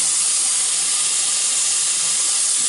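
Hot water runs steadily from a tap for a bathroom hair rinse, a constant close hiss of flowing water with no change in level and no voices.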